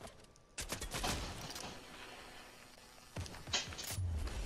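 Gunfire in the video game Fortnite, several rapid bursts of shots crackling at moderate loudness with short pauses between them, and footsteps faintly in the background.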